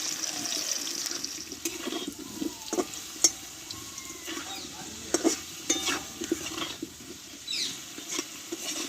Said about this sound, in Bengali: আলুটা কেটে নিয়েছি তাই অল্প আছে একটু টাইম করে কষে নেবো যাতে আলুটা নরম হয়ে যায়